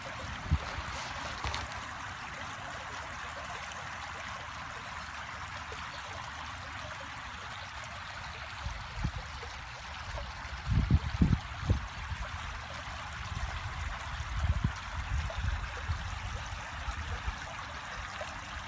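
A small outdoor stream trickles and flows steadily in a natural setting, a constant soft wash with occasional louder gurgles and low bumps partway through, no voices.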